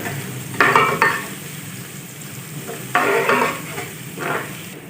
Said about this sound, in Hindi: अब हम लहसुन अदरक का पेस्ट ऐड करेंगे 1 चम्मच, हल्का सा फ्राई कर लेंगे।